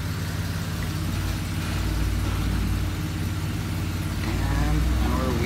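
A 2020 Chevy Express van sits in first gear with its wheels spinning, the engine giving a steady low rumbling drone throughout, loud and close with no break.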